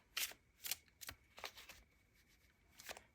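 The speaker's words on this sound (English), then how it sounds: "So we're going to give it a good shuffle" A Halloween-themed tarot card deck being shuffled by hand, with five or six crisp riffling bursts spaced unevenly across the moment, close and fairly quiet with no talking.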